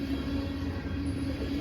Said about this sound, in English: First train, 2025. It's a tanker train.